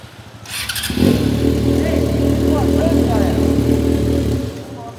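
Yamaha XJ6 motorcycle engine during wheelie practice, starting up and settling into a loud, close, steady throbbing run with a rough low tone, while people talk over it.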